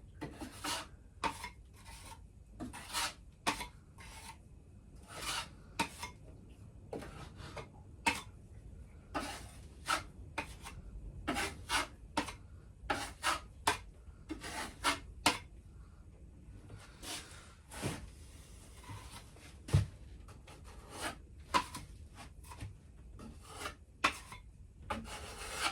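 Hand sanding of filler on a narrowboat's galley and saloon wall, a long run of quick, close rasping strokes in an irregular rhythm at a fairly quiet level.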